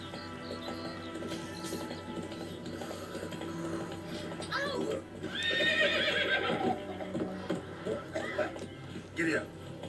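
Horse sounds in The Witcher 3 on PS5: a loud whinny and neighing with clip-clop hooves, mixed with game music and spoken dialogue.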